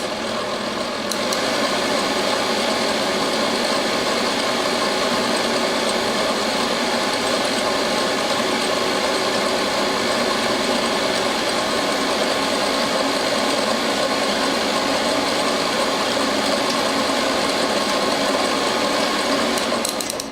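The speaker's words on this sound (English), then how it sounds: "you're doing a small batch of something with a stand mixer because the mixer attachment doesn't quite get to the bottom of the bowl" A stand mixer whirs steadily while beating a small batch of pâte sucrée tart dough, a loud, even motor drone that holds unbroken throughout with no voices.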